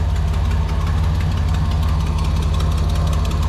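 A Nissan Pathfinder VG30 V6 engine idles roughly up close, with a steady low drone and a rapid knocking, slapping tick running underneath it.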